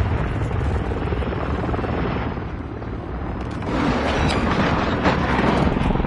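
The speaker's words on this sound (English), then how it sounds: "Hostile Overwatch Helo in the area." Hostile overwatch helicopter in a video game passing overhead, a steady loud rotor rumble with broadband roar that swells slightly near the end, no talk over it.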